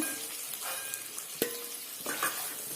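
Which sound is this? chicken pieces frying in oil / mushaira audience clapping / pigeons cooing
chicken pieces frying in oil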